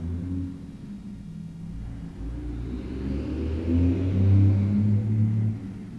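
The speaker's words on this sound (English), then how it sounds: "Sounds of traffic on the street, sounds in other rooms of your house." Low rumble of passing cars on a nearby street, steady engine drone that swells as a vehicle accelerates past, heard from indoors with no voices.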